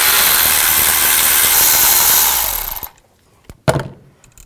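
Loud, continuous power-tool whir removing a coil bolt on a 2000-2006 Chevy Tahoe, cutting off after about three seconds, followed by a couple of sharp clanks and rattles nearby.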